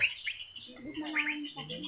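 A sky-blue burung wayang bird from Madina gives a few short, bright chirps and tweets at close range, with soft background noise between calls.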